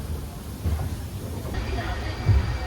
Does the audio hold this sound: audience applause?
no